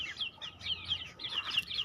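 Aseel chickens cluck and chirp in quick, high, bright bursts, close and fairly clear over a quiet background, with no voices.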